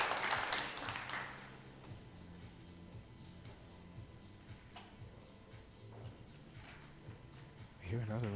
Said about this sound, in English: Hear another applause in the background,